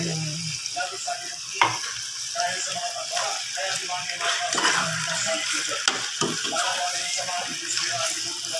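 Adobo pork chops sizzle and crackle steadily in a hot pan, close by, with scattered pops and clinks of stirring throughout.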